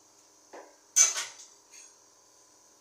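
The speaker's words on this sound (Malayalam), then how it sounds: "വേവിച്ച് വെച്ചേക്കുന്ന കടല നമുക്ക് ഇട്ട് കൊടുക്കാം." Boiled, unsalted chickpeas tipped into a simmering pot of dried-fish curry give a few soft clinks and scrapes of a metal pot and utensil, quiet and close, with short gaps between them.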